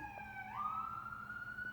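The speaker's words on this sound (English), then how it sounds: "Let's just wait for the ambulance to go by" Ambulance siren passing outside, a faint distant wail that sweeps upward and then holds a steady rising tone, muffled and alone without talk.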